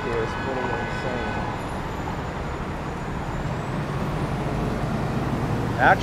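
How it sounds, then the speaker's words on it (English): Busy road traffic on a Miami street, heard from a scooter ride along the sidewalk in July 2022: a steady, loud rumbling wash of engines and tyre noise with no gaps, and a brief burst of noise right at the end. "Traffic here is pretty insane."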